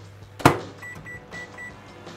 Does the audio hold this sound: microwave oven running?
yes